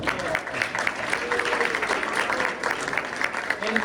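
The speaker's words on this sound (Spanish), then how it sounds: "Un fuerte aplauso para ese grupo que está poniendo un chorro de atención." A student audience at an Industry 4.0 lecture gives a steady burst of applause, dense clapping sustained throughout at moderate loudness, with some voices mixed in.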